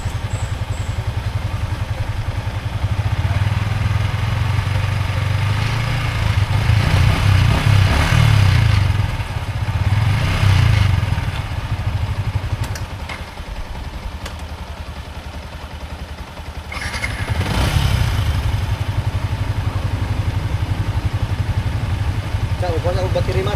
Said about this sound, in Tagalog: para mapainit muna ang makina.